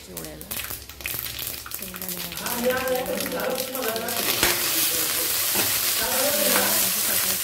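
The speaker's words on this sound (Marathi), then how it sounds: "फोडणी देऊया चिवड्याला." Whole spices and green chillies crackle and sizzle steadily in hot oil as a tempering for chivda made from crumbled leftover chapatis. The frying is close and grows louder partway through, under a tonal voice or music.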